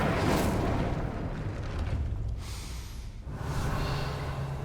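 In Hogwarts Legacy, the Incendio fire spell goes off as a loud whooshing burst of flame with a roaring rush. The sound dips for a moment and then flares up again.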